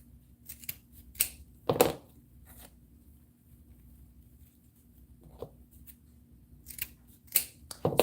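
Scissors snip through ribbon for a bee wreath, with several sharp close cuts scattered irregularly among quiet pauses and soft handling rustles.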